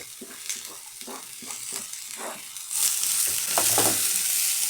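Zucchini and peppers frying in a pan, with soft stirring scrapes at first, then a louder steady sizzle as more peppers go in.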